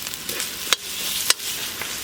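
Tomatoes sizzle softly in hot oil, with a couple of sharp clacks of a utensil stirring the pan.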